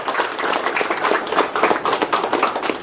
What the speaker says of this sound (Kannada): ಈಗ ಒಂದು ಜೋರಾದ ಚಪ್ಪಾಳೆ ಇದೆ